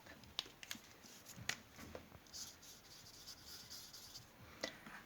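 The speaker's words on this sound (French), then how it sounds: "On va dessiner un arbre." A pencil scratches and scribbles on paper while a tree is drawn, faint and close, with short strokes and light taps in an irregular rhythm and no talking.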